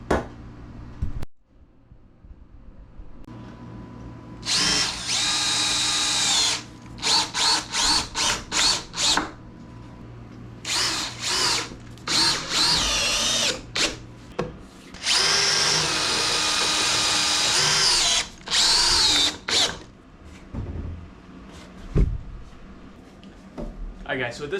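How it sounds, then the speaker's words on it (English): A power drill drives screws through the top plate of a basement interior wall frame, loud bursts of whirring, some sustained and some short stop-start pulses, close up, with occasional talk between runs. "now what we're gonna do is we're gonna put screws through the tops of all of them."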